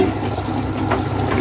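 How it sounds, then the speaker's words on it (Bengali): Water pours steadily into a pot of rice for beef khichuri with a continuous splashing rush, close by and fairly loud. "এখন পানি দিয়ে দিব"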